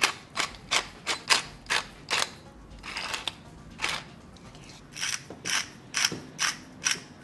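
Black pepper is ground in a hand mill for a Dutch meatball mix, producing a steady train of crisp close clicking ratchet turns, about two per second and loud with no talk over them.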